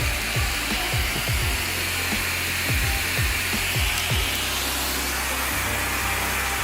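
An AquaAir wet/dry vacuum runs with a steady, loud hissing whoosh, while a rapid series of falling squeaky sweeps, like a squeegee dragged along glass, repeats through the first part.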